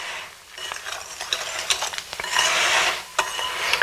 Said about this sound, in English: we're just whisking the ingredients together, doing our best to keep the ingredients in the bowl